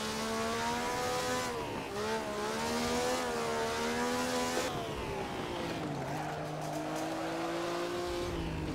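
A 1938-era race car at Donington in the Assetto Corsa video game revs and accelerates through gear changes. The engine note climbs in rising tones with a brief dip as it shifts, heard steadily throughout, with faint tire noise.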